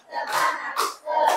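A class of schoolchildren shouts a cowboy spirit clap chant in unison, giving three loud, close group cries in quick succession within about a second and a half.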